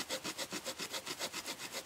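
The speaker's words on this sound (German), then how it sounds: "Die Säge, bitte enttäusch mich nicht." A cheap folding survival spade's built-in saw cuts through wood, its strokes sounding in a steady back-and-forth rhythm of about a dozen rasping pulls, close and fairly quiet, with no voices.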